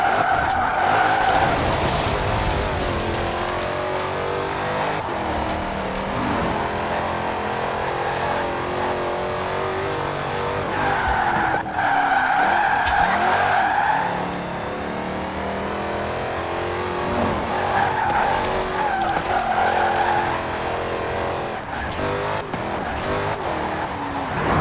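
A car drifting in Forza Horizon 4, its engine revving hard while the tires squeal loudly in long sustained waves that rise and fade several times, close and continuous with no talking.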